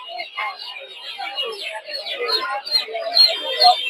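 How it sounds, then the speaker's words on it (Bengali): At a poultry market in Narsingdi, tiger hens with their chicks and farm chickens peep and cluck continuously, a busy chorus of chirps close to the listener. "এই জায়গায় কিছু টাইগার মুরগি বাচ্চা সহ যে কিছু ফার্মি মুরগি আছে"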